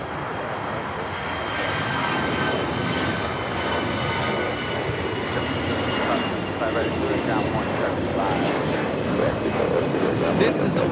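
An Allegiant Air Airbus A320 rolls out on its takeoff run at Los Angeles International, a steady, broad jet roar that holds and builds slightly toward the end while a voice talks over it.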